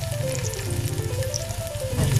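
Onion and garlic fry in oil in a wok-style pan, giving a steady, close sizzle that keeps on with a faint crackle and no talk.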